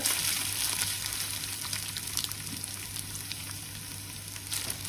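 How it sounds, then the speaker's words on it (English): Rice laid in a thick layer into hot vegetable oil in a pot sizzles with a steady, dense crackle that holds evenly throughout, close and fairly loud, no voices. "once the oil is hot, we put a layer of rice, a thick layer"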